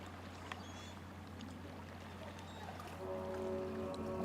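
A swan boat ride glides across water in the Hansel & Gretel section of The Park game, with a steady low hum and soft lapping under a quiet ambience, and a sustained tone entering near the end.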